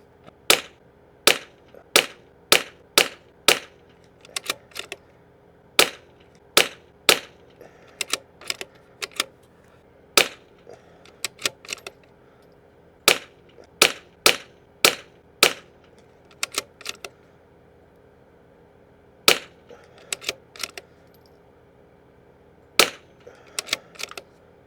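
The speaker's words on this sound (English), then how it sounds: "Yep, that's 10 shots there." Ten or more sharp .22LR rifle shots fire at a steady, unhurried pace, each a crisp crack with a brief tail. A distant shot or two sounds between them in an open outdoor setting with light wind.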